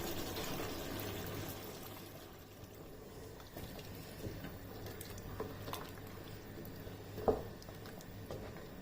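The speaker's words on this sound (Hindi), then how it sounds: "अब मिक्स करने के बाद इसमें पानी डाल देना है 2 कप।" Two cups of water pour steadily into a pot of beef biryani, a soft, continuous splashing rush, ending with a faint clink.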